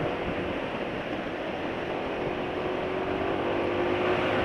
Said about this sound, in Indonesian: Kemarin suara mesin sudah kasar ya, lumayan kasar ya